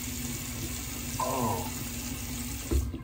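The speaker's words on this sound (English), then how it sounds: "Finish up with a little bit of cold water." Cold water runs steadily from a tap into a sink, a constant close wash of noise at moderate level, with a few small clinks and bumps during the flow.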